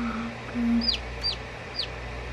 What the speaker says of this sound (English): Well, I heard a lot of chirping.